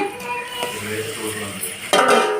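A spoon stirs tomatoes and ginger paste in a cooking pan, scraping and clinking against the metal over a light sizzle, with a louder clatter near the end and a voice speaking over it.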